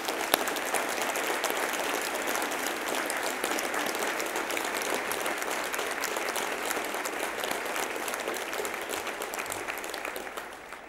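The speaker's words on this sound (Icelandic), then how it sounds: "Við skulum gefa þessum myndarlega hópi gott klapp." Sustained applause for a group of graduates at a university graduation ceremony in a large hall, an even wash of many hands clapping that holds steady and then begins to thin out toward the end.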